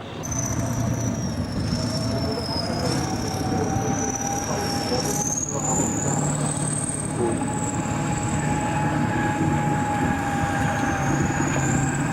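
2S1 Gvozdika tracked vehicle with a turbocharged 14.8-litre V8 diesel truck engine, off-roading at Duxford: continuous engine drone with a high, wavering turbo whine and squealing, clanking tracks, loud and close with no talk.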